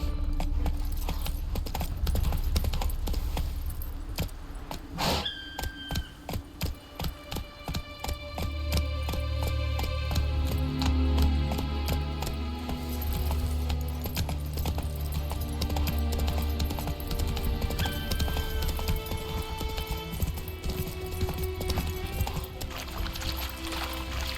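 Roach, the horse in The Witcher 3, gallops with a rapid rhythmic clip-clop of hooves, loud and close, under game music and ambience, with a brief whinny early on.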